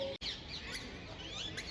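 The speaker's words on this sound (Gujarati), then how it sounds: "પક્ષી જે પોપટ છે ને એનો અવાજ જ એટલો મસ્ત છે કે ન પૂછો વાત" Parrots call at sunset behind a temple, a wash of faint chirps and squawks from a flock at a distance, continuous and soft with no talk over it.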